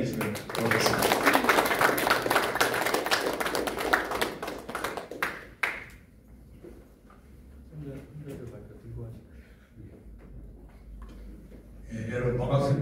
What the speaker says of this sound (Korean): 큰 박수로 임원영 선생님을 환영해 주시면 고맙겠습니다